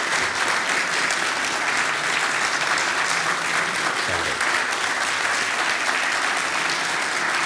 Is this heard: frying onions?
no